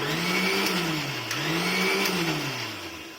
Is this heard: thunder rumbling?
no